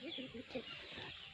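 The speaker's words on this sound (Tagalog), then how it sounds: "Yan yung bali tandang ko dito." Native rooster on a small backyard chicken farm, giving short clucking calls in a quick series of bursts, close and moderately loud over a steady background.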